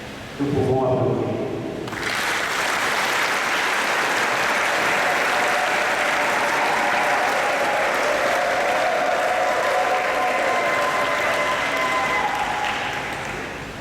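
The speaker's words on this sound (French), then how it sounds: "Nous pouvons applaudir." Congregation applause at a Catholic ceremony at the Vatican consecrating a papal chaplain, a broad sustained wash of clapping lasting over ten seconds, steady and fairly loud, with brief voice and noise at the start.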